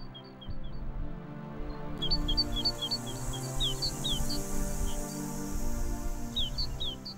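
Small birds chirp and warble in short repeated high phrases, moderately distant, over a steady low rumble of outdoor background noise.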